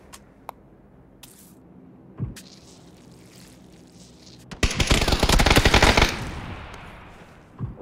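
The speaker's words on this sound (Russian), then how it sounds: "с другой стороны кто-то стреляет?" Gunfire in PUBG on the Vikendi map: a few distant isolated shots early, then a loud, dense burst of rapid automatic fire lasting about a second and a half before trailing off.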